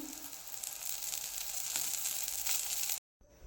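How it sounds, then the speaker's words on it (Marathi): Chillies and garlic roasting in a pan for a village-style prawn kharda, giving a steady close sizzle with faint stirring scrapes before it stops suddenly. "इथे आता मिरच्या आणि लसूण चार ते पाच मिनटं भाजून घेऊ"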